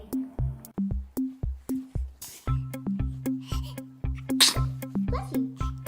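A baby gives two short, sharp sneezes, each heard once and separated by a couple of seconds, over a looping rhythmic music track with a steady beat.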